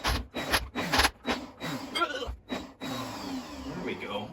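A countertop blender pulses raw vegan pad thai sauce in a rhythmic series of short, loud bursts. Brief pauses separate the bursts, and a voice speaks between and under them.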